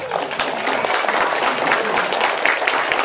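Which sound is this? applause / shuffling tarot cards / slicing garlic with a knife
applause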